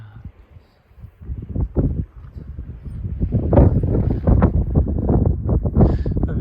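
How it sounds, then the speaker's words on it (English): Strong gusts buffet the microphone on a windy day at the Grand Canyon, rising into loud, sustained rumbling bursts, while people talk nearby. "A very windy day, no?"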